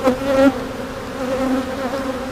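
Honey bees buzz at a hive that has recently become queen right, a steady close droning hum with a few louder swells, no voices.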